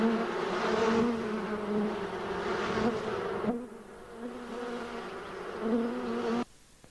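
At the entrance of a beehive in early spring, honeybee workers buzz close by in a loud, continuous drone that rises and falls as they come and go, then drops away abruptly near the end.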